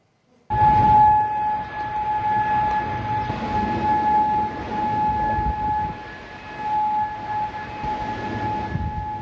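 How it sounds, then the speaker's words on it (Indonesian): Air raid warning siren wailing across Kuwait during a missile interception, a steady sustained tone holding at a constant pitch with distant rumble underneath, loud and unbroken throughout with no voices. "Sirine peringatan serangan udara berbunyi di seluruh wilayah Kuwait"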